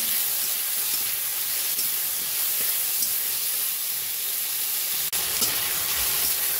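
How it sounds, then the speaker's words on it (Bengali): Jujubes fry in oil with salt and turmeric, giving a continuous close, dense sizzle with fine crackle. It stays even and unbroken throughout, with no talk. "কুলগুলোকে একটু 2-3 মিনিট মতো তেলে ভাজা করে নিয়ে"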